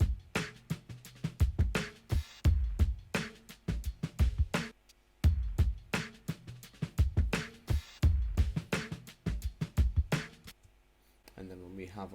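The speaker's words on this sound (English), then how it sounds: "added in some extra sort of drum hits and a noise gate cymbal as well" A punchy drum loop with sharp cymbal hits clipped abruptly by a noise gate, repeating in a steady rhythm before stopping near the end.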